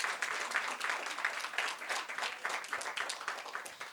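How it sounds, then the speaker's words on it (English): An audience at a family well-being panel discussion gives the panelists a round of applause, a dense, lively wash of many clapping hands that carries steadily throughout at moderate loudness. "So let's give that a round of applause"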